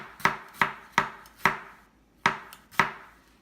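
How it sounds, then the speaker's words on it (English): A knife making fine push-cut slices through food on a cutting board, six crisp, close chops at a steady, unhurried pace with a short pause midway. "So I can apply my same technique, very fine slices, if I want fine slices. Again with a push cut."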